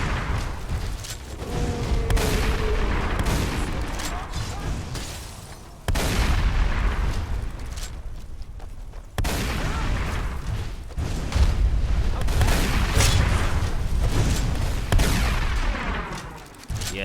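Rifle fire with depleted bullets in modded Skyrim: repeated heavy booming shots and blasts run almost continuously over dense, loud battle noise, with little talk.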